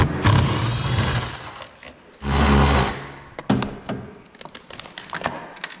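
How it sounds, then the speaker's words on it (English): Hood hinge bolts coming off a Land Rover: close, brief whirring bursts from a power tool, with clunks and metallic taps between them. "I'm gonna start the process on taking off 3 bolts on the hinges"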